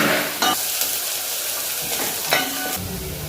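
Onion and garlic frying in hot sweet oil, a loud continuous sizzle with a few brief stirring scrapes and spatters, no voices over it.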